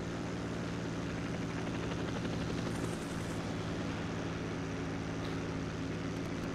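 A plane in the video game Arma 3 flies close with a loud, steady engine drone that holds throughout, rotor-like and unbroken, with no voices over it.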